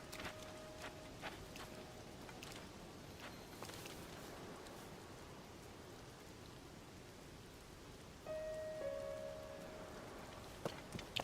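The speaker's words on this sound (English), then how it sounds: "It's fucking raining, so I kind of have to wait it out." Steady rainfall in the video game Zelda: Tears of the Kingdom, a faint continuous hiss of falling drops with occasional sharp pattering ticks and a brief tonal game sound late on, no speech.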